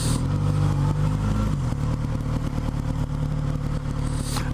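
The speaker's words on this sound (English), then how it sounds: "Yes, it's a motorcycle." A Kawasaki Z900RS motorcycle rides along at speed, its engine a loud, steady mid-pitched drone with a gear shift partway through, mixed with wind rush and no talk.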